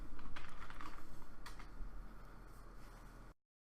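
Quick run of computer keyboard keystrokes while logging in at a Windows lock screen, fairly close and steady for about three seconds, then cut to silence; no talking.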